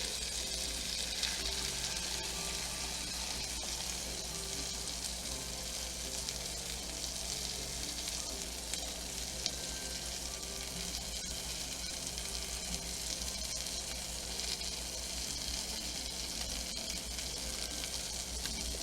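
Eggs poured into a pan of frying wurstel sausage, making a steady, dense sizzle of hot fat that holds evenly and loudly throughout, with a few soft stirring scrapes.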